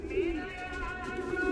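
Teddy pigeons cooing softly in a close, low murmuring series of throaty coos, heard steadily over a faint background hum.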